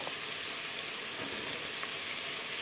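Garlic sizzling in oil in a pan where onions have already been fried for a chicken curry, a steady broadband hiss of frying with no breaks and no one talking.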